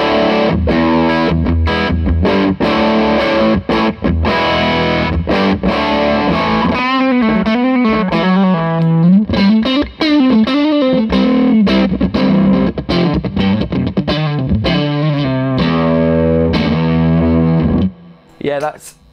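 Electric guitar played through a Fuzzrocious Feed Me fuzz pedal after an overdrive, thick distorted chords and a sustained bending solo line, loud and upfront, ending with a brief cutoff near the end.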